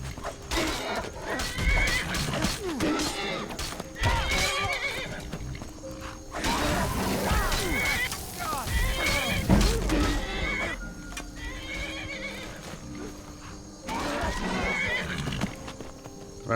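A horse in the fantasy video game Skyrim neighs and whinnies loudly and repeatedly, up close, in several long bursts mixed with hoof clip-clops and scuffling combat noise.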